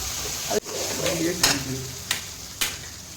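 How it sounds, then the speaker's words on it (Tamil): Marinated masala chicken is stirred in a frying pan, sizzling under a few sharp scrapes and knocks of the spoon against the metal. "நல்லா கிளறி விடணுங்க"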